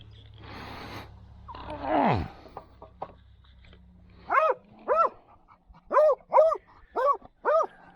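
A farm dog barks in a quick run of six or seven sharp, loud barks near the end, after a stretch of quieter rustling and a brief whine-like sweep.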